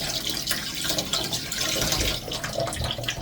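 Water runs from a kitchen sink tap in a steady, close splashing stream with small fluctuations and no voices.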